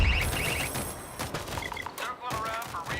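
Bursts of gunfire from the zombie shooter World War Z ring out in quick, rapid volleys, with sharp repeated cracks through the whole stretch, while players' voices talk over the action.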